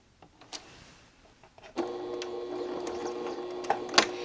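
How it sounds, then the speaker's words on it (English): A sewing machine stitches fabric for a bow book sleeve after a few soft handling clicks, starting with a steady mechanical whir and hum that runs at an even pace to the end. "I'm going to stitch at an angle and then sew all the way down."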